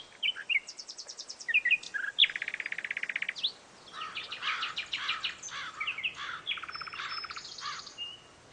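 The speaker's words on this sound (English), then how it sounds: "you could close your eyes and you listen to the birds sing" Several British garden songbirds sing in quick bursts of bright chirps, trills and rapid repeated notes, overlapping at close range with no other sounds.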